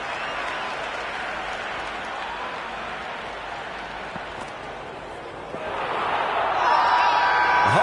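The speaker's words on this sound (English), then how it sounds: "The crowd is electric right now." A large stadium crowd in the cricket video game Cricket 26 roars steadily, a broad continuous cheer that swells louder in the last couple of seconds.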